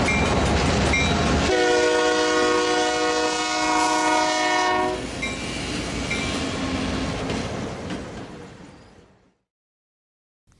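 A BNSF EMD GP-series locomotive leads a local freight past, its multi-tone horn blaring loudly over the rumble and wheel clatter before the sound fades away into silence.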